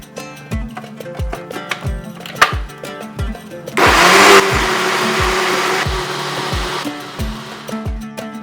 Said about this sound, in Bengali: এরপরে এটাকে ভালো করে স্মুথ করে বেটে নেব